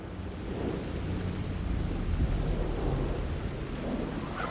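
Steady rain falls with a low, rolling thunder rumble throughout in the video game Alan Wake 2, a dense, continuous storm ambience with no voices.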